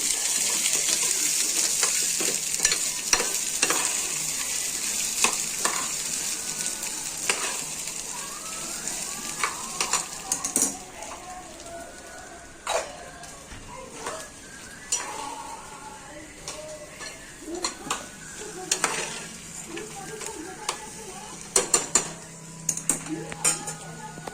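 Corn frying in a pan for corn chaat on a lowered gas flame, heard as a soft sizzle under clanking utensils and pan knocks, with brief running-water and faint talk in between.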